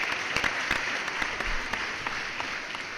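Steady, dense applause from a group at a fantasy football award show, a continuous wash of clapping that holds level for a few seconds with no talking over it.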